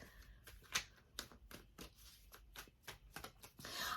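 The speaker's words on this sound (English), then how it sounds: "Let me shuffle these golden insight cards." Golden insight oracle cards being shuffled by hand, a quiet run of crisp riffling snaps and soft slides repeating close by.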